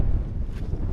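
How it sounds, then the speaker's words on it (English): Strong wind buffeting a microphone on a Lake District summit, a loud, low rumbling roar with gusty fluctuations throughout. "Although I'm out the worst of the wind, it's still quite windy here."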